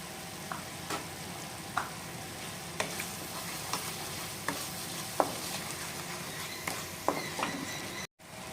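Spices with turmeric are sautéed in a pan, a soft steady sizzle with regular light scraping strokes of a spoon stirring every second or so.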